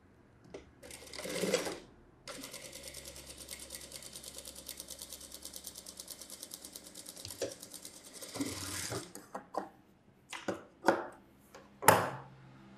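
A sewing machine runs in a long, rapid, even burst while stitching the cup shape on the front of a blouse, followed by shorter start-stop runs and handling clicks near the end.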